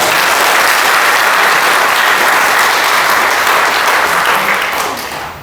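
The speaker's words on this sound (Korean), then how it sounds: "박수 부탁합니다." Steady, loud applause from a crowd at a church anniversary thanksgiving service, continuous clapping that tapers off slightly at the end.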